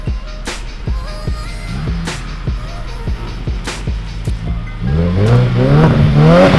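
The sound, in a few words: car engine revving at a car meet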